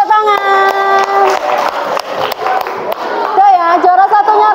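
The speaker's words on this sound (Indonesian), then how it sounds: "beri tepuk tangan" Classroom applause for quiz winners: a burst of scattered clapping and cheering from students, mixed with children's voices and a teacher talking over it.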